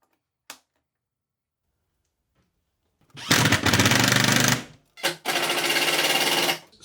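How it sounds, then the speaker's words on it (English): After a single sharp click and a pause, a power tool drills a 35 mm hinge hole in a wooden cabinet door, whirring loudly for over a second, stopping briefly, then running again in a second steady burst. "And I need to drill a hole for each hinge in the door."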